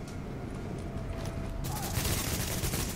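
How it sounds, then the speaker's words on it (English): Rapid gunfire in Tom Clancy's The Division during a boss fight, dense bursts growing louder toward the end over a steady low background. "What is he shooting at?"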